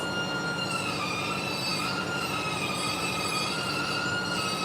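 A camless CNC spring forming machine, with servos and a wire feed gearbox, runs with a continuous high mechanical whine in steady tonal layers over a dense, even rumble.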